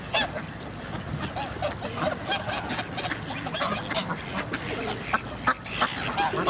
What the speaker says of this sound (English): Oh yeah, that big turkey goose.